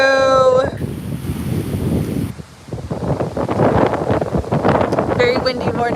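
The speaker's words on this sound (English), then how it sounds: "Very windy morning here." On a windy morning, gusts buffet an outdoor microphone, producing a continuous low rumbling roar. A voice talks briefly at the start and end of the clip.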